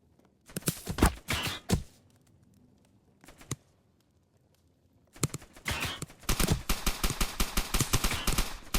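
Gunfire in the video game Dead Rails: bursts of sharp shots, a few separated cracks early, then rapid dense volleys toward the end, loud and close.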